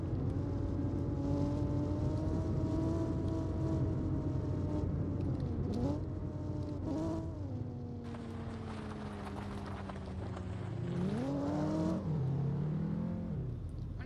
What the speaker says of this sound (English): I'm driving the supercharged M3 actually.